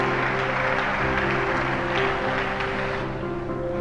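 Steady applause from a church congregation fills the hall, a dense continuous wash of clapping at moderate volume with a low hum underneath, no voices standing out.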